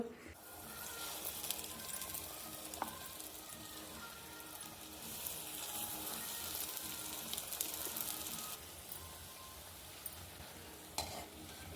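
Batter of ground soaked black lentils dropped as pakoras into hot oil for dahi vada, a faint, steady crackling sizzle with occasional stirring and light clinks, heard close and alone.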